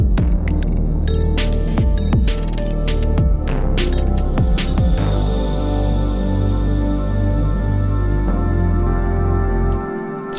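A bin closing, time-stretched and drowned in reverb into a long, loud, droning wash with throbbing low hum, scattered clicks early on, and a bright sustained shimmer that fades out near the end.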